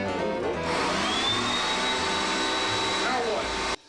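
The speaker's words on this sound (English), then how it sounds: "that ridiculously loud 1984 vacuum" A loud 1984 vacuum cleaner whines and roars nearby after a brief start, running steadily with a high pitched tone before cutting off abruptly.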